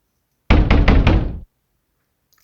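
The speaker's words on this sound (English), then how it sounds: "Someone was pounding on his door like the building was on fire." Four heavy, rapid fist knocks pound on an apartment door in the middle of the night, loud and close, then the knocking stops into silence.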